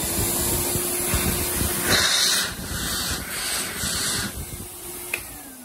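A Tristar DXL vacuum cleaner runs close up after being switched on, giving a loud, steady motor whine and rushing airflow hiss with slight surges in intensity throughout.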